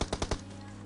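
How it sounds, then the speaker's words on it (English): Shotgun fire in the mobile battle royale game PUBG Mobile, four rapid loud blasts in under half a second, then a fading tail. "That's the perfect scenario for the shotgun."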